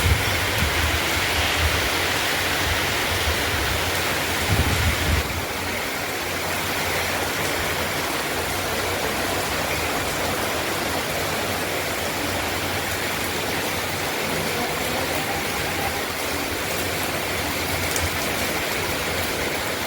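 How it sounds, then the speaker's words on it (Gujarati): Heavy rain pours steadily in Rajkot, a dense, unbroken hiss close by that holds an even, loud level from start to finish with no voices. "હા તો જો જોરદાર વરસાદ ચાલુ થઈ ગયો છે"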